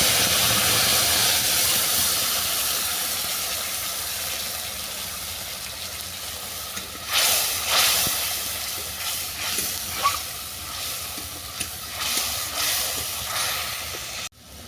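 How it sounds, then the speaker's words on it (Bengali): Ground spice paste hits hot oil tempered with dried red chilies and nigella seeds, giving a loud, even sizzling hiss that slowly eases, followed by scattered pops and crackles as it fries. "যে মশলাটাকে আমি পেস্ট করে রেখেছিলাম সেটাকে দিয়ে দিচ্ছি"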